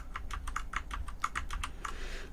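Keys pressed on a computer keyboard, about a dozen quick clicky strokes in an uneven typing rhythm, close and clear with no talk.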